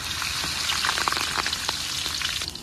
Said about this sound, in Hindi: इसमें हरी मिर्च छोड़ दीजिए आप।